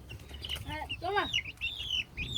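A chicken clucks close by in a few short, rising and falling calls against quiet outdoor background noise.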